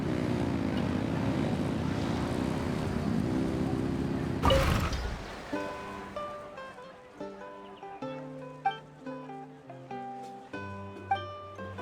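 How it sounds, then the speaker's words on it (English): Engines rev with a loud, droning propeller-like roar in Genshin Impact, holding steady for several seconds before cutting off with a whoosh into a light plucked musical melody. "Rev the engines!"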